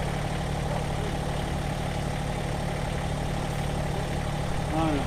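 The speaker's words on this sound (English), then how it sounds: "Try out this Massey Ferguson compact tractor." Massey Ferguson GC1720 compact tractor with backhoe, engine idling at an outdoor demo event, a steady close mechanical drone throughout with a brief voice near the end.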